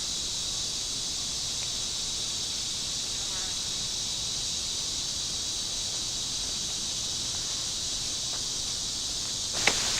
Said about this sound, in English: we're starting to get some of those late summer insect sounds